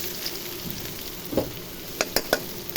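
Chopped onions sizzle and fry in hot oil with dried red chilies for a carrot and onion-stalk stir-fry, a steady close crackle broken by a few sharp spatula scrapes near the end.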